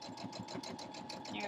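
A sewing machine stitches a straight seam through fleece, a rapid, even mechanical chatter of needle strokes running steadily at close range for a brief moment.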